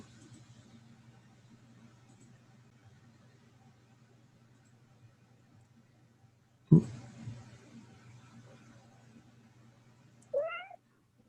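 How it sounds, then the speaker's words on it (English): A household cat meows twice indoors, one sharp loud cry and then a shorter, higher call a few seconds later, over a quiet background hum. "Was that somebody's cat"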